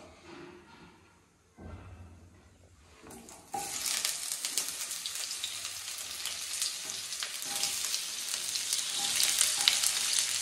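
Spices crackle softly in a pan for chicken curry, then the sizzle jumps to a loud, steady hiss of frying that persists to the end, with faint scraping now and then.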